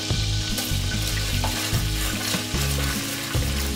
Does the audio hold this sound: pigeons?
no